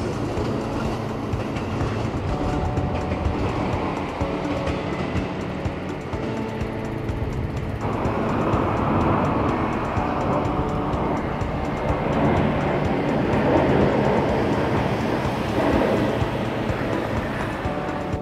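A passenger train rolls past close by at Shin-Osaka, a long steady rumble with rhythmic clatter of wheels growing louder midway.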